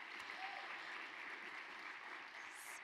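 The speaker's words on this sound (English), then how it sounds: "So, another round of applause." An audience at a conference opening ceremony applauding, steady, dense clapping from many hands that carries evenly for the full few seconds at a moderate distance.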